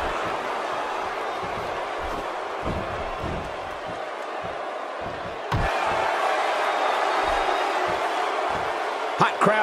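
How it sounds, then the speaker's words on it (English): Dense wrestling crowd roar filling an arena at a SummerSlam pay-per-view in Minneapolis, rendered in a video game, steady and loud throughout with a surge partway in and scattered impact thuds under commentary-style talk. "Hot crowd here tonight in Minneapolis"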